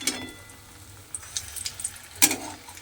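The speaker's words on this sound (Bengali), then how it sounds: "উল্টে দিয়ে এগুলোকে একটু লাল করে ভেজে নিতে হবে।" Semolina (suji) pakoras fry in oil while being turned over, giving a soft, steady sizzle broken by a few sharp clicks and spatters.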